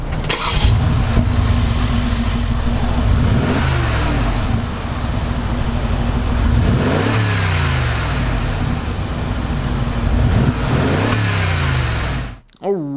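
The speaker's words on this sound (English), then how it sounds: "let's give this engine a startup here so that you can listen." A 2016 Mercedes-Benz G550 engine cranks and fires up, then revs repeatedly in loud, close surges that rise and fall over a steady rumbling idle, before the sound cuts off abruptly at the end.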